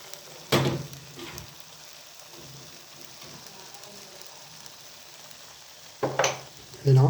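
Pork chop pieces seasoned with Espelette pepper sizzling softly in a pan, with two loud bursts of stirring and scraping near the start and end over a quiet steady fry.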